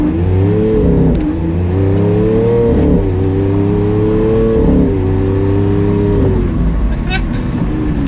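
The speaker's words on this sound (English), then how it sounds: "I can give it a little bit more gas" A Lamborghini Aventador LP700-4 accelerating from a stoplight, its engine pulling hard and loud from inside the cabin with rising pitch and a shift dip around the middle, over a voice talking.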